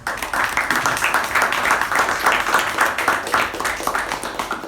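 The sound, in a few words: round of applause at meeting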